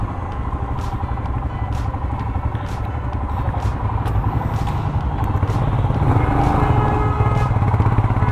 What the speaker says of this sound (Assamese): আৰু এতিয়া আমি বাইক চলাই আছোঁ ছিকিমত।